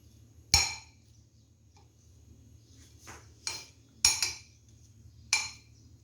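A spoon stirring fruit chaat in a dish, heard as a few sharp, sparse clinks and scrapes against the bowl, separated by quiet gaps over a faint low background hum.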